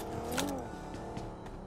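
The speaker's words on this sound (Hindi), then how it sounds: "सामने गाड़ी का साउंड आया" A car engine drones continuously with a brief rise in pitch, a vehicle revving nearby in PUBG Mobile.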